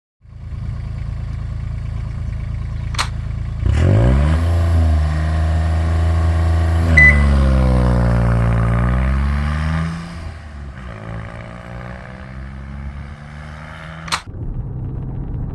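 A turbocharged Kubota D722 three-cylinder diesel in a Honda on a road test revs up strongly, pitch sweeping higher and holding before dropping back to a lower drone, loud and close with a faint turbo whine.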